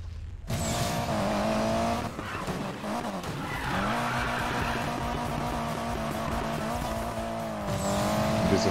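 A Mitsubishi Evo races in the video game Need for Speed Payback, its engine droning steadily with prolonged skidding tire squeal, loud and continuous with no talking.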